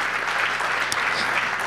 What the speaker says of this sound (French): je vous demanderai une bonne main d'applaudissements en partant